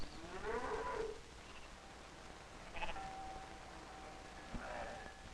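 Milk cows moo a few times at a distance, faint and drawn out, with occasional bleating of sheep and goats mixed into a quiet outdoor background on a 1940s Norwegian farm.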